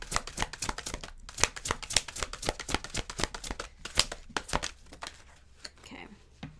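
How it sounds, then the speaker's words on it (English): Tarot cards are shuffled and pulled by hand, giving a rapid run of crisp, close riffling snaps and flicks that thin out toward the end, with no talking. "Okay, so I'll pull one of these cards."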